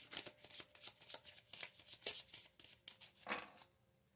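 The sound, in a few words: tarot cards being shuffled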